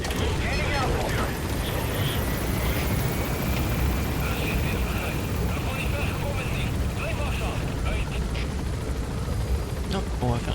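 In the Metal Gear Solid V game, a helicopter climbs with a continuous loud rotor rumble and engine whine that holds steady throughout, and a voice speaks over it.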